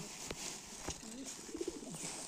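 Low, soft cooing from a pigeon rises over a steady hiss of background noise, a few rounded notes close together.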